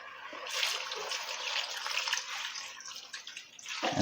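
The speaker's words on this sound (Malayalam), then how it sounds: "അതിനുള്ള വെള്ളം ഒഴിച്ചു കൊടുക്കാം" Water poured into a pot of Kerala-style crab curry, a steady splashing pour running close and fairly loud for most of the stretch before tapering off.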